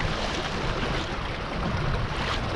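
A sailboat cruising at about 4.5 knots on Lake Eucumbene, with a steady, close rush of wind and water flowing along the hull and no break in the noise.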